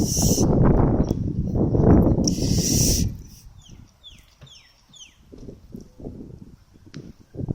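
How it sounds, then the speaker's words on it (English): Australian white ibis in Sydney give harsh croaking, squawking calls that are loud at first, then fall to scattered quieter honks and chirps over faint background noise. "They're ibis birds."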